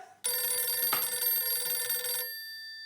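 A telephone bell rings in one sustained burst of bright metallic trilling that starts abruptly and cuts off after about two seconds, leaving a faint electronic tone behind.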